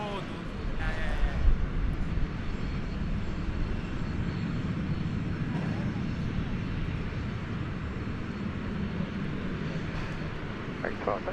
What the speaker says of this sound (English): Lots of planes lined up to take off on 18 left.